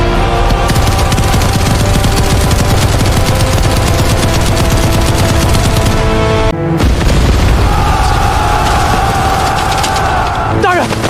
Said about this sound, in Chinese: 他们的火铳怎么不用点火，而且连绵不绝，根本没有装填的空隙啊